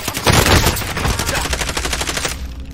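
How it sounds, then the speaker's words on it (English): Loud, rapid automatic gunfire from an online shooter game, a sustained burst of evenly spaced shots close up that tails off at the end. "Lay there and let me fucking shoot him."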